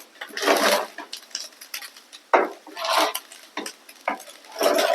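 Jeera rice is spooned from a pot onto a plate, giving a series of irregular metallic scrapes and clinks of a utensil against cookware, close and fairly loud, with short pauses between strokes.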